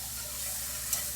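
Flour being stirred into melted butter in a pan to make a roux gives a steady, soft sizzle with a faint scraping stir throughout, close and low in level.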